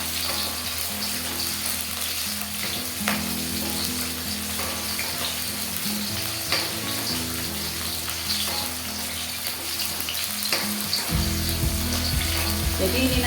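Beef pieces cut into chunks frying in hot oil for a spiced beef dish, giving a steady, dense sizzle with bubbling that continues throughout and grows slightly heavier near the end.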